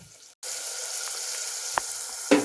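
A spice tempering for a baby potato bajra millet pulao sizzles loudly in a hot pan after a brief quiet moment, a steady close frying hiss with a couple of small spatters as it is stirred.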